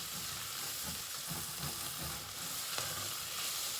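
White turkey green chili simmering in a pot, a steady soft bubbling sizzle with faint stirring scrapes, close and continuous with no talk.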